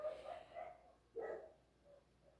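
A few distant dog barks, faint and spaced apart, with a louder bark burst near the middle against a quiet background.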